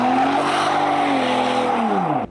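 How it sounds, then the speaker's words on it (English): Rear tire of a tuned Ford Raptor squealing off the line, a loud close screech over engine roar that holds for about two seconds before the pitch drops and cuts off. "you could hear that rear tire squealing off the line"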